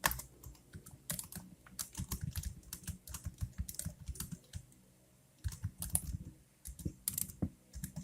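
Close, quiet keyboard typing as data is entered on a computer, with bursts of rapid keystrokes separated by short pauses.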